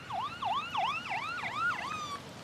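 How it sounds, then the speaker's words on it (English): An emergency vehicle siren wails steadily in rising and falling sweeps, about six cycles in a row, moderately loud and continuous, with no voices. "I can hear their siren there in the background"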